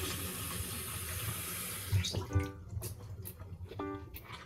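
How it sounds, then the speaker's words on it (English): Tap water runs steadily from a faucet to dampen a hair brush, a continuous close hiss that breaks off midway, followed by someone talking over faint splashing. "I'm gonna damp my brush a little bit of water"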